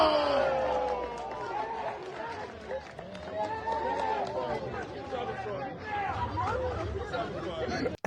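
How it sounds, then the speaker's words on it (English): Crowd at a Tekken 8 tournament reacting loudly as one player is finished off, a dense sustained roar of cheering and chatter that holds steady for several seconds before cutting off. "Now watch the crowd reaction."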